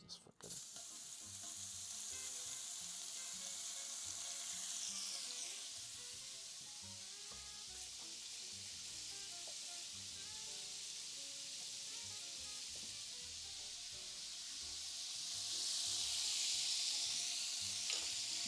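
Meat sizzling in olive oil in a pan, a steady bright frying hiss throughout that swells louder near the end, with faint stirring and clatter underneath.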